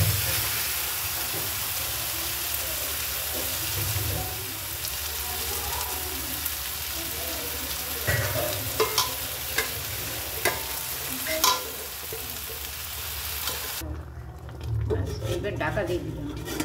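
Goat meat frying in a pan with onion and tomato while being stirred, a steady sizzle running throughout with occasional scraping knocks, fairly close, with someone talking over it.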